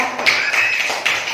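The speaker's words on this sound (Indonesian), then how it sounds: "Tepuk tangan dulu Pak" A school class clapping hands during an elementary-school lesson, a few short bursts of clapping in close succession.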